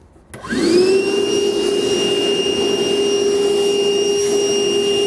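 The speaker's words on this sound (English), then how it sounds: "So I grab my vacuum cleaner, now we can clean up our mess here." A vacuum cleaner switches on with a rising whine, then runs loud and steady with a constant high-pitched hum.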